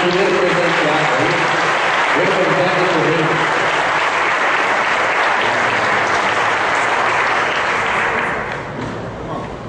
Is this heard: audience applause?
yes